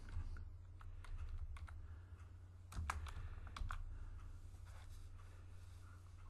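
Quiet, irregular typing on a computer keyboard, with scattered soft key taps and a few firmer clicks over a low steady hum, close by and with no voices.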